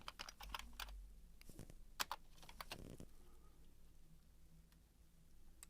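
Code being typed on a computer keyboard in an HTML editor, a close, quiet patter of key clicks in short bursts, fading into light background hiss toward the end.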